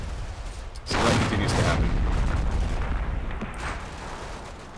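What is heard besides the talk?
helicopter 30mm cannon fire in video game Combat Mission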